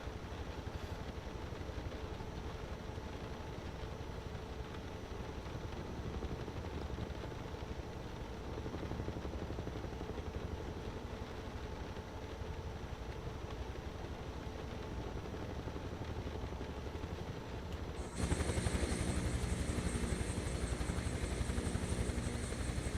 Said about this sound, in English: I think this helicopter has passed all the tests.